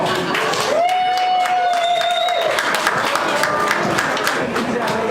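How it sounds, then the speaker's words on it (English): Audience applause with scattered cheering at a drag pageant as a contestant is announced, steady dense clapping throughout with a whistle and crowd noise, loud and close. "Let's give a round of applause"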